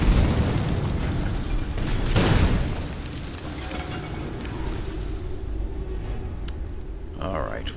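Fire mage spells bursting in Skyrim, a loud rumbling blast swelling around the two-second mark over a dense roar of combat, then a lower steady wash with a few small pops and a brief flare near the end.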